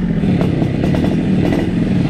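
A borrowed motorcycle rides along a city street in Jakarta, its engine droning steadily up close under rumbling road and wind noise, with faint clatter.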